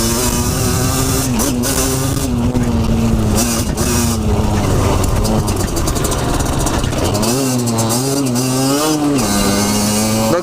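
A 50cc enduro motorcycle engine runs steadily and loud throughout, its pitch wavering and dipping then climbing again as the throttle shifts, heard close as if from the rider's position.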